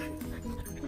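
Dog whimpering and yipping close up in a house, a short excited burst of whines with no talk.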